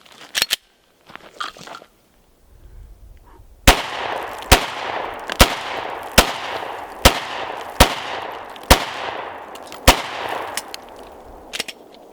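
Gunshots ring out in a quick red dot sight shooting drill: after a few scattered shots, about ten sharp, loud reports follow at a brisk, fairly even pace, each echoing briefly.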